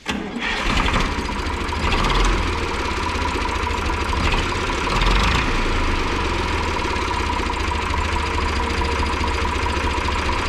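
A 1988 Hindustan G453 vintage tractor engine cranks and catches, then settles into a steady mid-pitched idle that runs on evenly, close and unaccompanied by voices.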